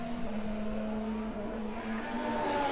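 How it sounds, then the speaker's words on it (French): A Formula 1 car slides out of the first corner during qualifying at the 2022 Hungarian Grand Prix. The engine gives a steady, somewhat distant tonal whine that wavers slightly. "ça glisse pour Alonso en sortie du premier virage"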